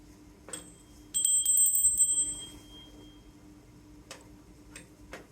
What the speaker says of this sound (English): And let's ring our bell.